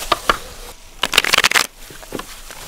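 A deck of playing cards shuffled close by in a few bursts, with a dense riffle in the middle flanked by lighter snaps and flicks.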